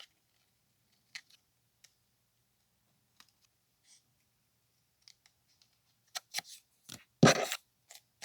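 Scissors trimming the pages of a handmade traveller's journal, a few faint scattered snips early on and a louder cluster of close cutting sounds near the end, with no talking.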